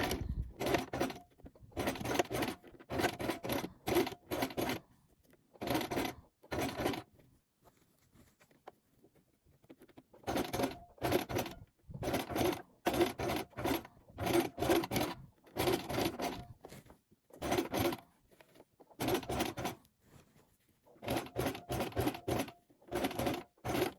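A sewing machine with a zipper foot stitches an invisible zip close to its teeth while making Citiz shorts, running in repeated short bursts separated by brief pauses.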